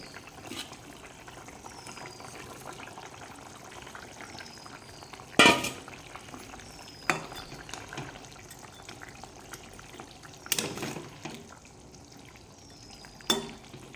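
A pot of thin snakehead fish curry with drumsticks and potatoes simmers quietly, a soft steady bubbling broken by a few brief clicks and knocks.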